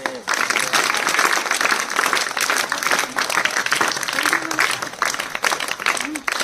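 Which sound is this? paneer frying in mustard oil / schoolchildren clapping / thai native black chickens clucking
schoolchildren clapping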